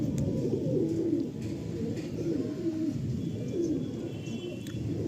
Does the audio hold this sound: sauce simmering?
no